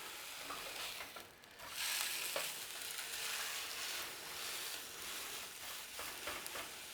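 Fatty pork sausage meat frying in a dry pan with no added oil, a soft continuous sizzle and crackle with occasional small ticks, faint and even throughout, with no one talking.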